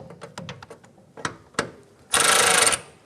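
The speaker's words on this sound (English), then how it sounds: "we're using a gear wrench to go ahead, loosen and remove this bolt" Gear wrench ratcheting a bolt loose on a 1997-2006 Jeep Wrangler, with scattered sharp clicks and knocks at first, then one dense, loud burst of ratcheting that lasts under a second, close up and without speech.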